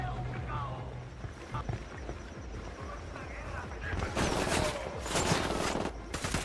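Rapid bursts of automatic gunfire and heavy weapon fire from a Ghost Recon Wildlands firefight, dense and continuous, swelling louder in the final seconds with overlapping shots and impacts.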